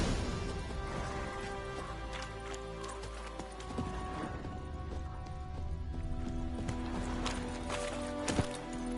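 Hooves clatter in a steady, dense gallop as a horse runs in a video game, loud and continuous under a busy wash of game effects and soundtrack.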